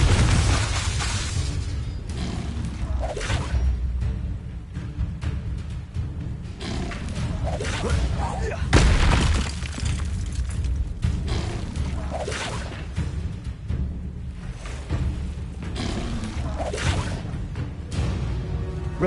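Confringo blasting spells from Hogwarts Legacy go off again and again, booming thuds and bursts with whooshing tails, loud and dense over a continuous rumbling game backdrop.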